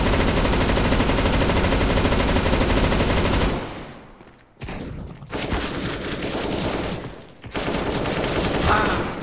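Rapid auto sniper rifle fire in the Counter-Strike video game, a dense roar of continuous shots for several seconds, then scattered bursts and gaps, loud and close.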